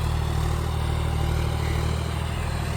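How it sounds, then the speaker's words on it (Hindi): A John Deere 5105 tractor of about 40 HP drives an 8.5-foot Maschio rotavator through a field in second low gear, a loud, steady, close engine drone with a continuous low rumble and faint clatter. "नॉर्मल जो जुताई है दूसरे के लो में कर रहा है ट्रैक्टर"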